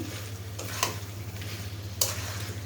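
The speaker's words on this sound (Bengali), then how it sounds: "আমি আবার একটু নেড়ে দিচ্ছি।" Meat frying with onions in a pan, a steady close sizzle with two sharp scrapes of a spoon as it is stirred.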